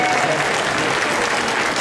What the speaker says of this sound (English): Give that good old nice round of applause,